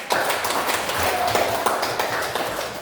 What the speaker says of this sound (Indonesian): Ya bagus jawabannya, tepuk tangan semuanya.